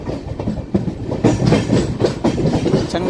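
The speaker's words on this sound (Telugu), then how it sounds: "Chengalpattu local train" A Chengalpattu local train passes close by with rhythmic clickety-clack from its wheels over rail joints and a loud rolling rumble that rises and falls over a few seconds.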